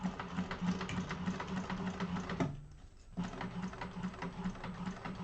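Close, steady mechanical whirr of a sewing machine stitching a bag's front pocket seam along a zipper with a zipper foot, one long run broken by a brief pause near the middle before it resumes.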